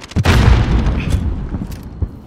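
A grenade goes off in a Modern Warfare match: one loud, close, deep boom with a rumbling tail that fades over about two seconds.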